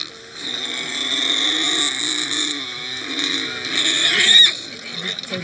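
A pig at a Vanuatu wedding exchange, carried to the bride's family as compensation, squeals in a long, loud, continuous shriek that rises to a sharp peak near the end before easing off.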